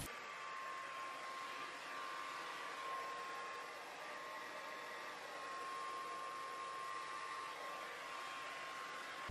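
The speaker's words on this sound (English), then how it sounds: "now I will go ahead and blow dry it, and I did attach my diffuser" A hair dryer fitted with a diffuser blows continuously while drying braided human hair, a steady, even whooshing hiss with a faint constant whine and no talking.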